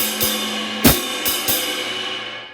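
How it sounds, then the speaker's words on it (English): Drum-kit swing pattern with the foot hi-hat closing on beats 2 and 4, heard as a few sharp, evenly spaced hits ringing out in a resonant room, close and moderately loud with no talking. "So again, the hi-hat falls on 2 and 4."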